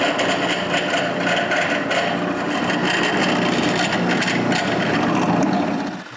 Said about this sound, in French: J'utilise le trou pour aligner la mèche, puis je perce des 2 côtés.